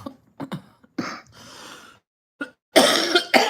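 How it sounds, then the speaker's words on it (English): Several dry coughs and throat clearings from one person, short harsh bursts spread out with gaps between them, ending in a louder cluster of coughs close up. "Man, I have a dry cough, then it goes to a wet cough."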